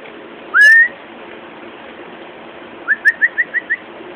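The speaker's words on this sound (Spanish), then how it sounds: "Ahí está la paloma, mira la paloma en el cable ahí." A small dove perched on a wire gives a single rising whistled note, then a quick run of six short cooing notes, clear and fairly close over faint background hiss.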